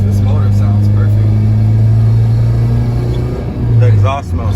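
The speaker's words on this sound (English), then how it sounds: "this motor sounds perfect" A Honda Civic VX with a swapped K20A Euro Type R engine idles steadily with a low, even rumble, rising briefly near the end as if revved, while a voice talks over it.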